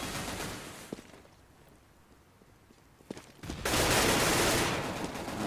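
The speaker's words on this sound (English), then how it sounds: "It's a really good shotgun, actually." Auto shotgun fire in CS:GO during a de_season tournament match: a few sharp, isolated shots early, then a loud sustained burst of gunfire near the end.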